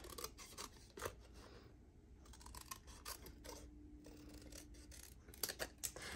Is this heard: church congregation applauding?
no